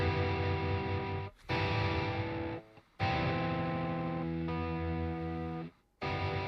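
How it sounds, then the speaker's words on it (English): Electric guitar chords played through distortion at low volume, each heavy, sustained chord ringing for a second or more, separated by brief silent breaks while the chords change. "I think I have distortion on, so I'm going to keep the volume down on it."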